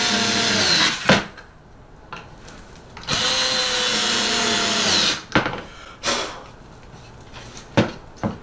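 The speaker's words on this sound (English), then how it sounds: "screwing 4 pins into the plastic threads" A power screwdriver or drill drives four pins into the plastic threads of a record player stand, whirring in several bursts of a second or two each, with short pauses and clicks in between.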